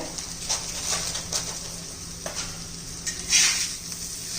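Cooked green chillies dusted with amchur powder are stirred in a pan, giving soft, irregular scraping strokes over a faint, steady sizzle, close by and with no talking.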